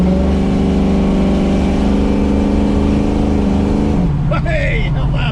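A 1967 Ford Mustang 302 V8 coupe revs hard under acceleration, a loud, close engine roar climbing steadily for about four seconds before the pitch drops as it eases off, and a person speaks briefly near the end.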